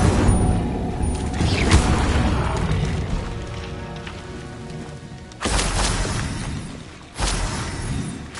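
Fire spell cast in Hogwarts Legacy: a rushing, crackling roar that swells and sustains, then bursts back twice with sharp whooshing flare-ups, loud and alone with no talking.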